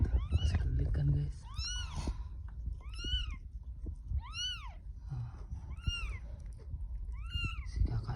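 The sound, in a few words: newborn kitten meowing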